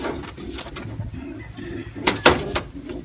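Pigeons coo softly in a loft in a low, continuous murmur, with a brief louder rustle or flutter near the end.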